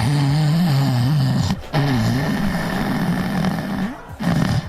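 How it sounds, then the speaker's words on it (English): Loud, rumbling snoring close up, long drawn breaths with brief gaps between, harsh and nasal throughout. "That's me snoring."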